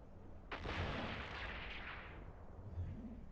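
Ship guns fire in the space game EVE Online, heard as one heavy booming blast that rolls into a long rumbling decay, followed by fainter low thuds, with no talking over it.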